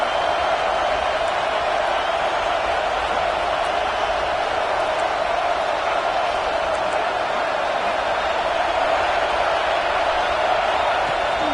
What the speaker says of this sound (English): This dog crowd is off the leash, and they are coming after them, bringing noise on third down.